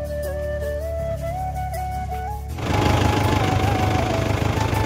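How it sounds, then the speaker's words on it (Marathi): A farm tractor's engine runs out in the field, a low steady drone that swells noticeably louder partway through, with no talking. "ते ट्रॅक्टर चालू आहे तिकडे।"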